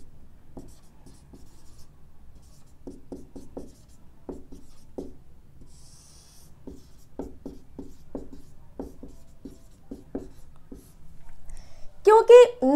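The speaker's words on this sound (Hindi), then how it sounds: "मैं यहाँ पे इस साइड में लिख रही हूँ" Marker or chalk strokes on a board as a geography lesson is written out, a series of short scratchy squeaks in bursts, with a voice speaking briefly near the end.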